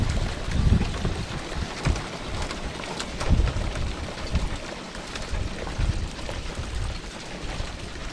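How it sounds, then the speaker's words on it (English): A steady downpour of big hailstones clatters outdoors during melting late-winter snow, a dense continuous patter with louder thumps scattered through it and no talking. "And now we're getting a bunch of hail."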